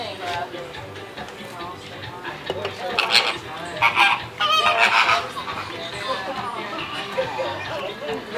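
Flamingos at an Ardastra Gardens flamingo show give a flurry of nasal honks and squawks, loudest in a few bursts midway, over steady crowd murmur and chatter.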